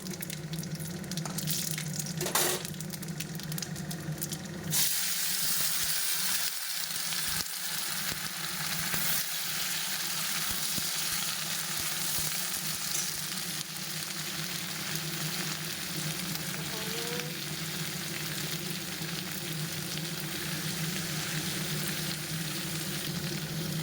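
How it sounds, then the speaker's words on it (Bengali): Vegetables frying in a pan for a lentil dish, a continuous close sizzle with faint stirring and clinks underneath, steady throughout. "ডালটার জন্য আগে সবজিটা ভেজে নেবো"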